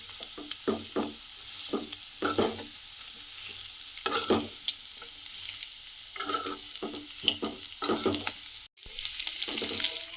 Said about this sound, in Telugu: మంచిగా ఫ్రై కానిద్దాం మధ్య మధ్యలో కలుపుకుంటాం